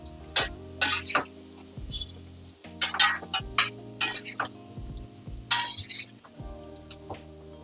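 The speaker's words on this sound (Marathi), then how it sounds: "आपण उकडलेल्या बटाट्याच्या फोडी घालून घेऊया परतून घेऊया सगळ्या व्यवस्थित एकजीव करूया" Boiled potato pieces being stirred and tossed in a pan on the stove, with repeated clinks and scrapes of a spoon against metal over a low steady hum.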